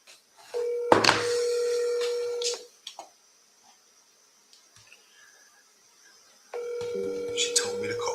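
Phone call being placed: a steady dial tone sounds for about two seconds, followed by faint clicks and near-silence, then another long steady electronic ringback tone near the end.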